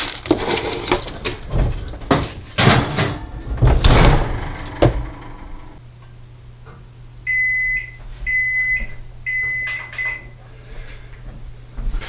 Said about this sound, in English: Alright, beeper went off.